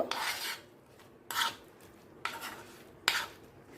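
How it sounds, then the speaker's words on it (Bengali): Pointed gourd pieces being tossed with oil and spices in a bowl, producing four separate rasping, scraping strokes about a second apart, close and fairly quiet, with no talking. "এখন আমি সামান্য তেলটা দিলাম দিয়ে ভালো করে পটলের সাথে মিশিয়ে নেব"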